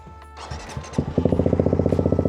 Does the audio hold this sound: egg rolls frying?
no